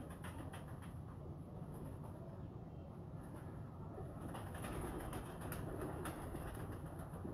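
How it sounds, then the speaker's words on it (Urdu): Breeder pigeons coo softly amid a dense, steady low rumble of background noise, with faint intermittent clicks and rustles near the birds. "یہ ماشاء اللہ ایجڈ کبوتر ہو گیا کافی"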